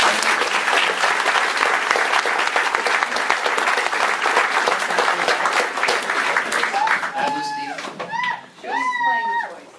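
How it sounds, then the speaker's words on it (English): Applause from a roomful of guests at a church pastor's retirement party, dense steady clapping for about seven seconds that thins out, followed by someone speaking. "let's give them a round of applause"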